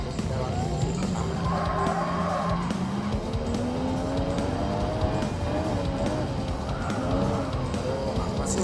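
Gran Turismo race between a Mazda RX Vision GT3 and a Porsche Vision Gran Turismo: steady game engine whine climbing through gears with tire squeal, under continuous talking commentary.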